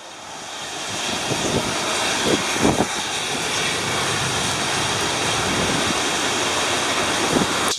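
A fast, intense storm tearing past a house, a steady broadband roar of wind and heavy rain that holds loud throughout, with a few brief gusts or thumps near the middle.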